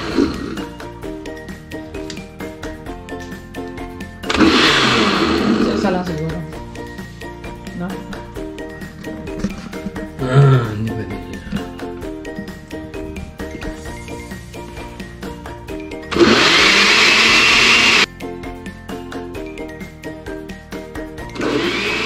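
Electric blender whirring as it blends a mix of eleven different fruits, with loud bursts near 4 to 6 seconds, around 10 seconds and 16 to 18 seconds, while background music plays throughout.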